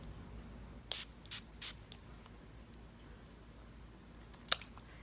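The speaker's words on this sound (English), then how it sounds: "So let's go ahead and spray this baby on." A few short hissing sprays of dewy-finish makeup setting spray onto a face in quick succession, then a pause and one sharper spritz, close by in an otherwise quiet room.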